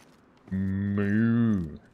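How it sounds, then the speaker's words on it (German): A cow in the video game DayZ, standing inside a house, lets out a single low moo of about a second and a half. The call is loud and close, and its pitch rises slightly before it fades. "da vorne ist die Kuh, sie ist im Haus"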